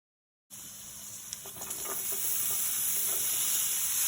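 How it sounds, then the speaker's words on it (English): Onions frying in a pan start sizzling abruptly after a moment of silence, then settle into a steady close hiss with faint stirring scrapes, growing slightly louder, no voices. "So we'll just cook this onions until they are light golden brown."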